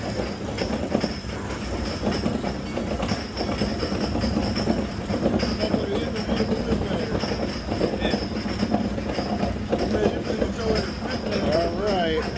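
The Ninja roller coaster train at Six Flags St. Louis rattles and clatters along its track with steady rumbling and occasional wheel squeals, heard from onboard with riders talking and shouting over it.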